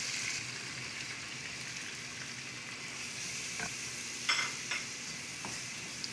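Tomatoes and spices cook in a pan with a steady soft sizzle, and a few sharp scrapes of stirring stand out near the end.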